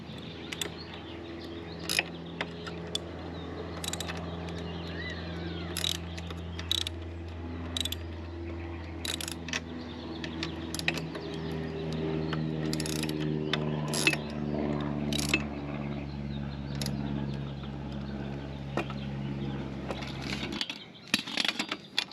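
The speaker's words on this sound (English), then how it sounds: "using a 17mm wrench and a 17mm socket, secure the 2 bolts with the lock nuts that came with your center stand kit." Ratcheting clicks from a 17mm wrench and socket tightening two bolts with lock nuts on a T-Rex Racing center stand for a Honda Rebel 1100, heard as repeated close mechanical clicks over a steady low drone.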